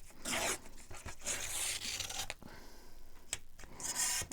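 Paper is torn down to size against a ruler, producing several close, raspy ripping bursts with brief pauses between them and no talking.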